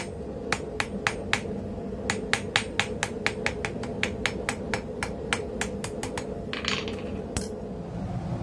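A hammer forges steel, drawing the stock out thin for a corkscrew: sharp metallic strikes land in quick, fairly regular runs of ringing blows, close and loud, with a few brief pauses between runs.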